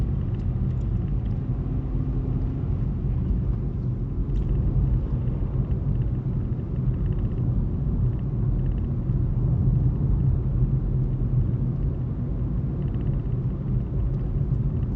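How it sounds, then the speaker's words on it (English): A low, steady three-cylinder engine rumble from a Ford Fiesta Trend 1.1 drones continuously from inside the moving car, with no talking. "I love 3-cylinder cars. I just love the noise that they make."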